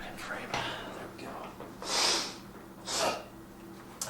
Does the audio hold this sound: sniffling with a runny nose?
yes